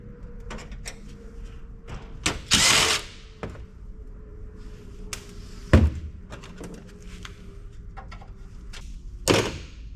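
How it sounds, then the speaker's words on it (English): Screws come out of the motherboard tray of an old PC, with a quiet whirring screwdriver, small metallic clicks and scrapes, and a few louder clunks and rattles of the metal case being handled. "this is a tray for the motherboard and everything, so I'm going to go ahead and get that unscrewed as well"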